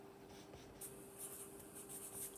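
Marker writing on a classroom board, heard as faint scratchy strokes in short bursts over a steady low hum, with no talking.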